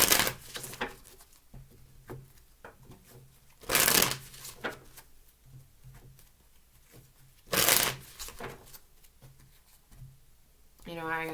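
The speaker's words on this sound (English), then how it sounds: "3 shuffles, please." A deck of tarot cards is shuffled in two loud bursts of riffling, with softer card handling and quiet talk in between and a brief ringing tone at the end.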